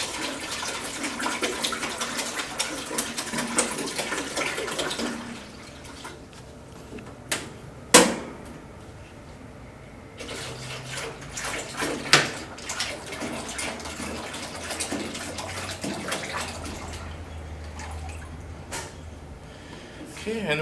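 Soft-serve mixture poured into the hoppers of a Presidential soft-serve machine, a liquid splashing and glugging run, then a pause with knocks and clatter of containers, then more pouring, fairly close with a voice briefly talking.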